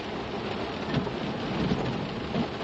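Heavy rain pours steadily during a storm on a busy road, a dense continuous hiss with faint low rumbles beneath and no voices.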